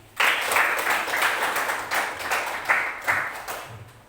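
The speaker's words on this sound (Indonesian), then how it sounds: "Kita beri aplaus dulu." A classroom of students applauds together, a close, lively burst of clapping that swells and pulses for a few seconds before fading out.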